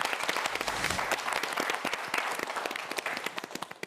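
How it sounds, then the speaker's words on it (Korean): A studio audience on a televised student quiz show applauds a contestant. Dense, close clapping thins into scattered individual claps toward the end. "김재현 학생에게 큰 박수 부탁드립니다"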